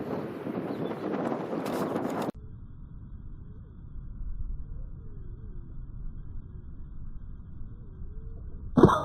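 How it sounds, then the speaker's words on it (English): Strong outdoor wind buffets the microphone during an air rifle hunt, a steady low roar running throughout after a louder gusty burst at the start, with no talking. "Man, but this wind is really out."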